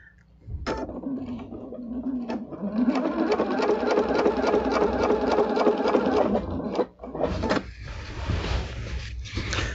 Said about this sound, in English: I'm still only going a few stitches at a time.